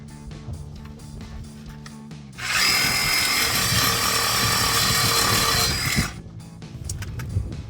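A reciprocating saw slices through a Jeep Wrangler TJ exhaust tailpipe where it meets the muffler, a loud, steady, close buzzing cut lasting a few seconds, with quieter workshop handling noises before and after.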